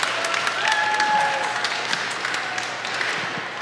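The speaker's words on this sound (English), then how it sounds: "Please give a round of applause for Yeri as she kicks us off." An audience at a mental health conference gives steady applause as a panel moderator is welcomed, moderately loud clapping with a few faint tonal squeals and murmurs mixed in.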